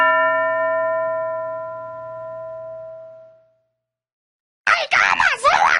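A single school bell rings once in a classroom lesson, its sustained tone slowly fading over about three seconds; after a brief silence, a voice begins speaking.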